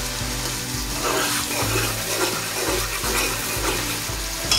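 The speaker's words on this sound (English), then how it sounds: "Once the garlic in the base is a bit brown, I'm going to add the onion." Chopped onion, about 350 grams, sizzles and fries in a family-size pot with browned garlic while being stirred, a steady close crackling hiss with occasional low clunks of a utensil against the pot.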